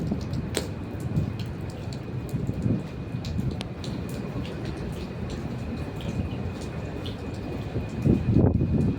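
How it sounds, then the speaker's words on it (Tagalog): Steady rain patters outdoors with a constant hiss and scattered drip sounds, swelling slightly louder toward the end. "Ulan."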